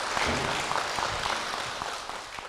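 A church congregation claps to welcome a deacon to the front, giving a full, sustained round of applause with a few sharper claps, slowly easing off toward the end.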